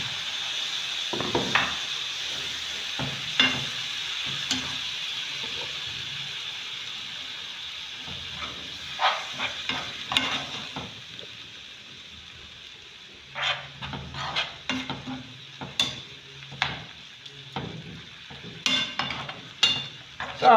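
Minced meat frying in a pan, a steady soft sizzle broken by repeated scraping knocks from a spoon stirring it, the strokes growing busier toward the end, with no talking.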